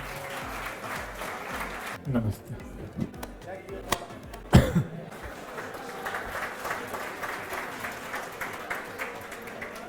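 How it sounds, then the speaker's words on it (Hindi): A classroom audience applauds a top-ranked student at an exam-coaching institute, scattered clapping at moderate level broken by a few sharper hits and a brief greeting spoken partway through. "मनीष के लिए जोरदार ताली बजा दो यार।"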